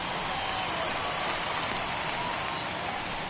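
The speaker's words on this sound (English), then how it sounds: "we've mentioned the conditions aren't ideal with the rain coming down" Steady rain falls during a baseball game in MLB The Show 21, a constant broadband hiss of drops filling the stadium throughout, even and unbroken at moderate loudness.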